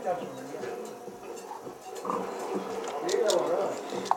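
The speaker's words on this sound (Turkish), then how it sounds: "Domuzlar." Minecraft pigs grunting and oinking over a noisy game backdrop while people talk throughout.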